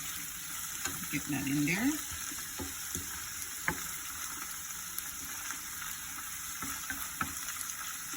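Saltfish sautéing in a pan with seasoning for Jamaican ackee and saltfish gives a steady low sizzle, with scattered clinks and stirring scrapes and a brief spoken remark partway through.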